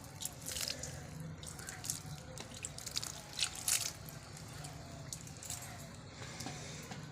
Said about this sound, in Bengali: আজকে একটু জল দিয়ে দিচ্ছি। একটু সামান্য জল দিয়ে দিচ্ছি।